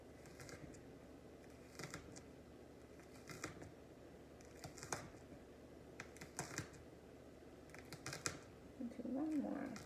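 Kitchen knife slicing and dicing vegetables on a cutting board for a beef and vegetable stew, giving faint, irregular cuts and taps over a steady background hum, with a brief voice near the end.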